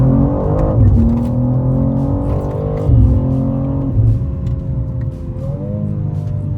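A 2025 BMW M2 G87 accelerating hard through the revs, engine note climbing repeatedly with gear changes between pulls, loud and close with no talk.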